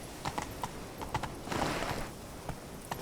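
A horse gallops in The Witcher 3: Wild Hunt, giving rapid, rhythmic clip-clop hoofbeats with a brief burst of rushing noise partway through, fairly quiet and with no speech.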